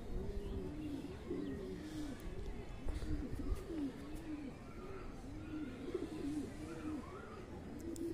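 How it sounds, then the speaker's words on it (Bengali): A foreign-breed pigeon coos close by, with soft, rhythmic, repeated coos continuing steadily at low volume. "তোমাদেরকে একবার পায়রাটা কাছ থেকে আমি দেখাচ্ছি"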